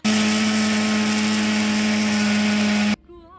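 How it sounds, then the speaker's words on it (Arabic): A blender grinding strawberries and sugar whirs loudly and steadily for about three seconds with a strong, even motor hum, then cuts off abruptly. "صافي البنات غادي نطحنو ورجع معكم"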